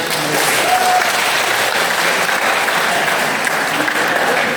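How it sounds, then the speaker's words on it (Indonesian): A church congregation applauds at a First Communion celebration, steady, dense clapping from a large crowd held at an even loud level throughout, with no talking over it. "Mari kita tepuk tangan."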